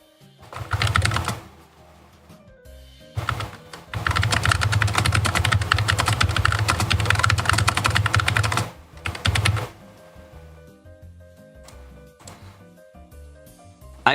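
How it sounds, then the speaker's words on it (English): Bursts of rapid typing on a computer keyboard, close and fairly loud, with a long continuous run in the middle, a short burst before it and scattered keystrokes between, no talking. "before I start typing"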